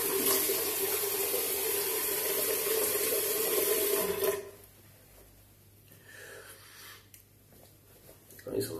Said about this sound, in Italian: Mi sono sciacquato anche gli occhiali